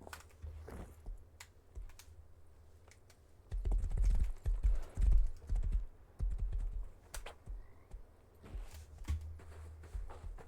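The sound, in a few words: horse hooves clip-clopping in a video game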